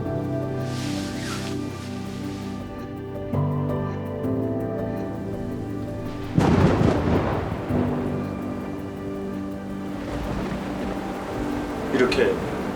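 Thunderstorm with heavy rain and strong wind, steady downpour hiss under rolling thunder that swells into a loud crack midway and again near the end, with a sustained tonal drone beneath.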